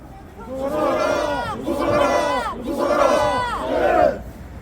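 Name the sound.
crowd shouting and applause at rally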